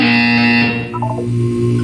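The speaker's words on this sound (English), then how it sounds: "You will hear a buzzer. When you hear the buzzer, look up at the ceiling." A loud, steady electronic buzzer drones in Portal 2, then cuts out and gives way to a lower tone with a few short beeps.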